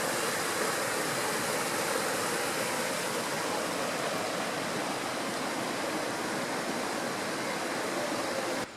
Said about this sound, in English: listening to this serene sound of water flowing